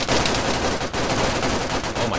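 Sustained, loud minigun fire from ArmA 3 in King of the Hill mode: a dense, rapid buzzing stream of shots that runs almost unbroken, with only brief dips in the rate.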